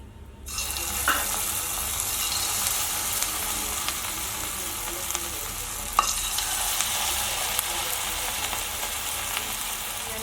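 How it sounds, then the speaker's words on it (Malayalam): Cauliflower pieces deep fry in plenty of oil for a crispy street-style fry, producing a loud, continuous bubbling sizzle throughout with a couple of faint clicks. "ഞാനത് ഓരോന്നായിട്ട് ഫ്രൈ ചെയ്യും"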